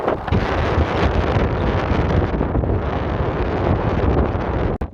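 Wind blowing across the open island of Unst in Shetland buffets the microphone as a steady, loud, close roar for the whole stretch, with no talk.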